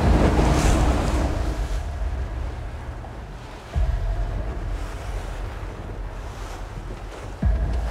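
Wind and rolling sea waves rush steadily around a boat on an Atlantic tarpon fishing trip, a loud, constant roar with a few sharper gusts or splashes and no voices.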